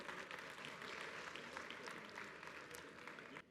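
Sustained audience applause fills a hall at a film awards ceremony honouring a lifetime achievement, dense and steady clapping throughout before easing off at the very end.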